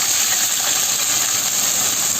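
Spice paste for rendang sautéing in hot oil in a pan, a steady, loud, dense hiss that holds even throughout without voices.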